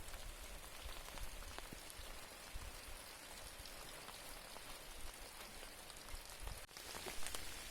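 Quiet summer rain pattering steadily on garden flowers such as marigolds and roses, a dense, even wash of drops close by with no voices.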